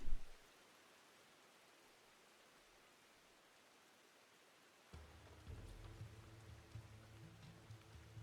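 Rain falls steadily in an anime scene as a faint, even hiss, with a low rumble rising partway through beneath the downpour.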